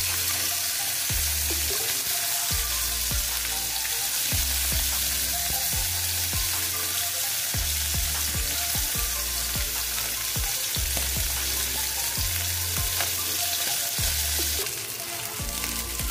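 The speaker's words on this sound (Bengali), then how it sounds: "চারটায় একসঙ্গে ভেজে নিচ্ছি আমি" Four koi fish fry together in hot oil, a loud, continuous close sizzle with occasional spatter pops and low thumps, and no voices.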